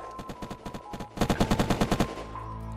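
Rapid automatic gunfire in the survival game Unturned, a steady rhythmic string of shots that grows louder and denser partway through before cutting off.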